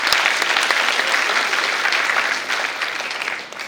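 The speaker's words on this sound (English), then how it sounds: "A round of applause for the MC" Applause for the MC at a college students' council inauguration ceremony, a full crowd of clapping hands that holds strong and steady, then thins and fades in the final moments.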